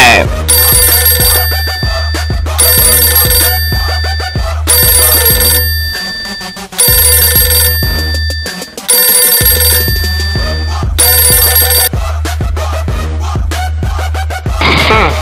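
A telephone ringing before a phone conversation, repeated loud electronic ring bursts in a regular on-off pattern over a steady low hum, with brief gaps between rings.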